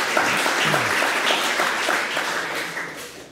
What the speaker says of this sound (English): So please give a warm applause for Thomas.